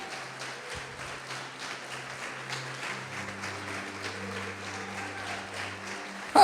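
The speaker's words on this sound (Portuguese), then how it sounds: "pode aplaudir o Senhor Jesus." A church congregation applauds during a sermon, a steady wash of hand clapping held at an even level for several seconds, with a low hum underneath and a brief louder burst at the very end.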